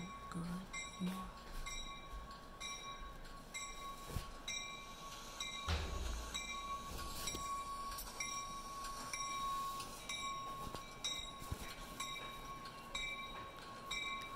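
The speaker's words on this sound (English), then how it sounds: "Let's follow up on this darn train." Train pulling away from a station on rails, a steady rolling rumble of railcars with faint metallic clinks and a tonal hum, moderately distant and continuous throughout.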